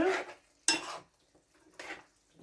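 Irish potato halves clatter into a cooking pot in several separate bursts, sharp clanks and scrapes of food and utensil against metal, close by, with quiet pauses between and no talk.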